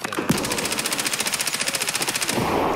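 Automatic gunfire in the video game Escape From Tarkov, a rapid sustained burst of evenly spaced shots, loud and close, running for about two seconds.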